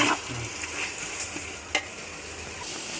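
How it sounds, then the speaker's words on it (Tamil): Ginger garlic paste frying in a pan for chicken biryani sizzles steadily up close, with soft stirring scrapes and one sharp clink of the spoon. "நல்லா பச்சை வாசனை போக நல்லா வதக்கிக்கலாம்"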